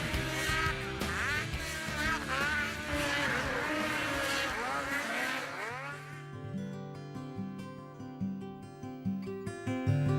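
Snowmobiles racing at a Duluth snocross event, their high revving two-stroke engines whining and changing pitch as they pass, loud and layered, then giving way to what sounds like music.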